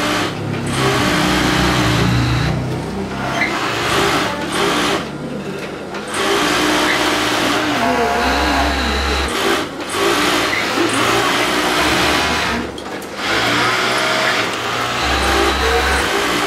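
An overlock sewing machine runs steadily in short test bursts, needle and looper stitching with a fast, even whirring hum, loud and close, with brief pauses between runs.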